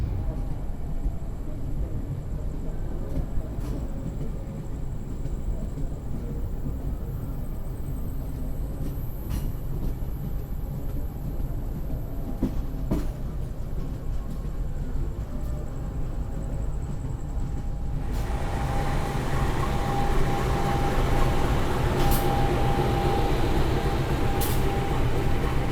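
Rumble of an Argo Merbabu passenger train rolling into Pekalongan station in Indonesia, heard from inside the carriage, with occasional clicks and a brief squeal as it slows.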